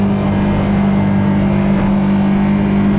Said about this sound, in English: Hopefully y'all can hear me over this loud boat.